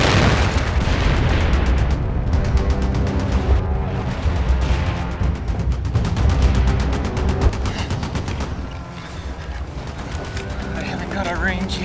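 Gunfire and explosions from German trenches in a war film roll on continuously, with heavy booms and rapid shots under frequent shouting voices, dense and loud throughout.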